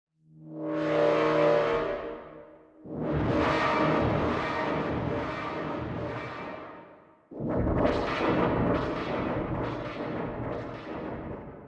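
Three long synthesizer swells with resonant cutoff and high-pass filter sweeps rise and fall in brightness, separated by brief gaps, loud and without any talking.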